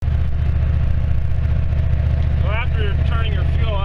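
A 7.3 IDI diesel truck engine turns over and runs with a steady, loud low rumble throughout, close by, while a person talks over it near the end.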